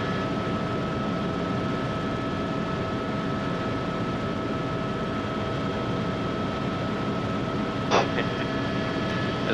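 A helicopter cabin during a training flight fills with a constant, loud rotor and turbine drone with steady tonal hum, and a short click sounds near the end.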